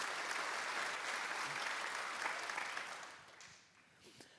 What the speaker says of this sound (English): I think we can all applaud that